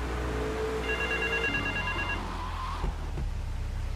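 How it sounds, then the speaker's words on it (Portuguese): Telephone ringing inside the video game GTA 3, a steady electronic ring tone heard at moderate level over a continuous low engine-like rumble from the game, with no talking. "Meu Deus, o telefone tocando ali."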